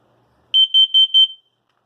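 A household smoke detector alarm sounding four loud, piercing high electronic beeps in quick, even succession, close up and alone, then stopping.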